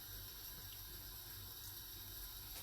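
Tap water runs steadily into a sink as hands are washed after mixing onion pakora batter, a faint, continuous splashing hiss with no talking.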